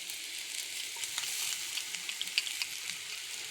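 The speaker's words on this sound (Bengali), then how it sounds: "এটা দিয়ে ভালো করে কষিয়ে নেবো চালটা আর ডালটা।" Rice and lentils fry in a pan with a paste of ginger, cumin, chili and tomato, giving a steady, moderately soft sizzle with scattered crackles and stirring scrapes throughout, no voices.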